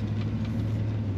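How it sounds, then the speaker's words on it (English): Steady low exhaust rumble from the engine of a 1982 Chevrolet C10 Scottsdale pickup truck, a brief, even drone heard close and fairly quiet. "This truck has a nice exhaust tone to it."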